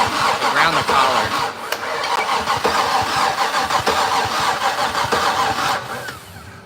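An old Datsun engine, not run in three years, cranks loudly and rhythmically with the starter chugging over and over without catching, up close, for several seconds.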